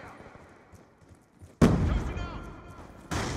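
A loud grenade blast with gunfire in Black Ops 2 multiplayer, hitting abruptly after a quieter stretch of distant shots, then a sustained roar and a second burst near the end.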